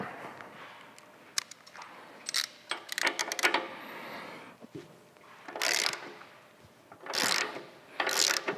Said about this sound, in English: just loosen, not remove, just loosen the axle nut